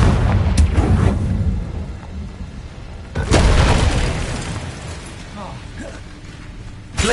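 Blasting Confringo spell explosions in the video game Hogwarts Legacy: a sharp boom early, a heavier blast around the middle, and another burst at the end, amid game effects and a voice calling out spells.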